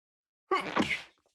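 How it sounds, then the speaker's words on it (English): A single close, sharp human sneeze bursts out after a moment of silence and trails off quickly, with nothing else around it. "Finally sneezed."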